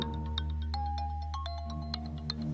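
A mobile phone rings with a repeating electronic melody of short tonal beeps over a steady low hum in a Bengali film scene, moderately faint and with no talk.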